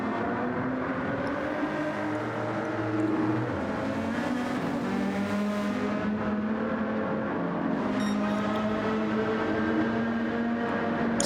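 Race cars lapping Le Mans in Gran Turismo 7, a steady loud drone of several engines at once, with overlapping engine notes rising and falling as a close pack of five cars runs together.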